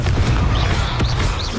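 A Confringo spell blast in Hogwarts Legacy booms loudly with dense, crackling low rumble and a couple of sharp hits, alone without talk.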